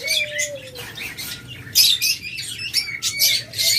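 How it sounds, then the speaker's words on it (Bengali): High-mutation lovebirds in cages at a bird shop give a quick run of sharp, close chirps and squeaky tweets, busy and overlapping, with no one speaking. "এরপর রয়েছে হাই মিউটেশনের লাভবার্ড"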